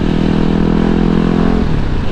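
A Yamaha WR250 motorcycle engine runs loud and close with a steady buzzing drone that shifts pitch near the end as it accelerates.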